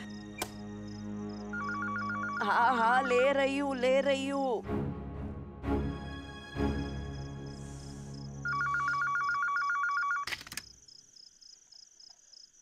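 A telephone rings in repeated bursts, with someone talking between the rings and answering.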